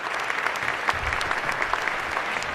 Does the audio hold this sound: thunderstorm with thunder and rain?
no